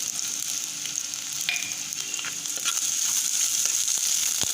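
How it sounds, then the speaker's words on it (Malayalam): Finely chopped onion fries in hot oil with ginger, garlic and green chili for a mackerel fish curry, a loud, steady close-up sizzle with light stirring crackles throughout. "ഇനി ഇതിലേക്ക് ഉള്ളി ചെറുതായിട്ട് അരിഞ്ഞതും കൂടെ ഇട്ട് കൊടുക്കാം."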